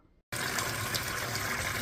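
Filtered water runs steadily from a water filter into a bowl, a continuous close hiss and trickle that starts abruptly after a quiet moment and keeps flowing without a break.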